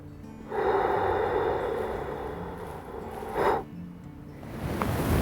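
A long, steady deep inhalation during a breathing exercise, close and soft, followed by a brief sharper intake and a faint hiss of air, with no talking.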